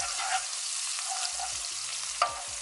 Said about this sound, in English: So I'm going to quickly stir everything.